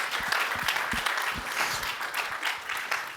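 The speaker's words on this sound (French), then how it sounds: "Donc là, on peut l'applaudir." Audience applause at a French science talk honoring an author whose book sold two million copies, a steady wash of many hands clapping across the whole stretch, moderately loud and continuous without speech.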